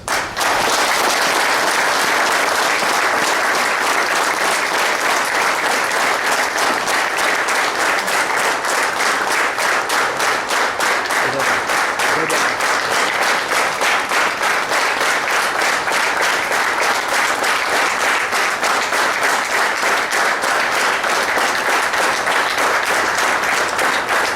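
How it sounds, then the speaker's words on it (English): A large audience breaks into a sustained round of applause at a talk event, dense and steady for over twenty seconds, loud and close with no speech on top. "Can we start with a quick round of applause first?"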